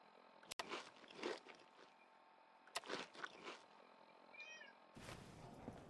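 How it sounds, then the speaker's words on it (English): A pet cat meows a few times nearby, with faint rustling and soft chewing-like crunches in a quiet room. "Might have just heard my cat."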